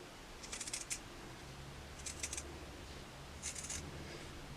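Scissors snip around the edge of a crocheted piece for a table runner, three short bursts of quiet cutting spaced about a second apart against a soft room hum.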